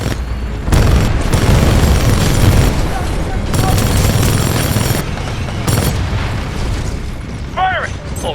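Titan-mounted weapons fire in the Titanfall 2 video game: loud, sustained booming bursts and explosions roll continuously, with brief voice lines and radio chatter mixed in.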